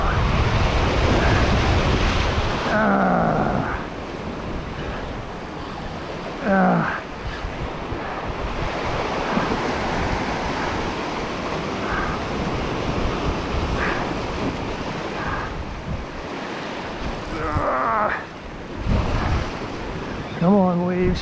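Ocean waves at a marsh surge and wash in a steady, broadband roar, with wind buffeting the microphone and a few short bursts of a man's speech over the water.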